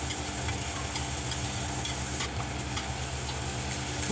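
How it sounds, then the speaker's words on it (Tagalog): Garlic sizzles in a pan while a utensil stirs it, giving a close, constant crackling hiss broken by light scraping ticks from the stirring. "Pa-brownin po muna natin ang bawang konti."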